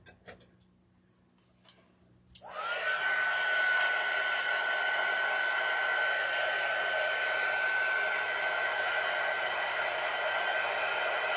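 A handheld dryer switches on after a click and blows steadily and loudly, drying white paint on a Christmas highland cow bench insert, with a constant whine held to the end after a quiet start.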